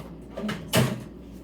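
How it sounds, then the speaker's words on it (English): A drawer slides open and shut as a clean grooming clipper blade is put away, giving a short scrape and then a firmer thud, close by. "Now I'm going to put that blade back because it's perfectly clean. It can go right into the drawer."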